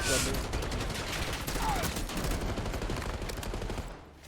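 Dense, nonstop gunfire from the video game Black Ops 6 forms a loud, continuous barrage of rapid automatic shots and explosions with no pauses, close and overwhelming throughout.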